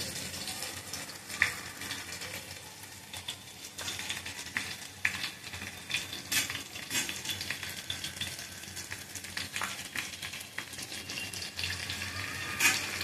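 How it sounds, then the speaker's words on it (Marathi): Stuffed brinjals cooking in oil in a pan for Maharashtrian bharli vangi, a continuous low sizzle with soft stirring scrapes and faint clinks throughout. "तेलामध्ये ती शिजून घ्यायची"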